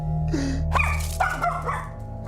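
A dog barks in a house during a tense confrontation, giving a few separate yelping barks and whimpers close by over a steady low hum, with no talk heard.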